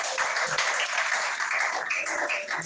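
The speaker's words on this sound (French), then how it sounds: "On acclame pour la parole de Dieu." Church congregation clapping together in acclamation, a dense, steady wash of applause filling the room from start to finish.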